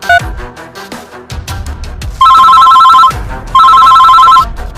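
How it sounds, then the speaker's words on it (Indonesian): A telephone rings at night in an animated cartoon, two loud electronic trilling bursts with a pause between, following a stretch of background music and effects. "Siapa malam-malam gini telepon?"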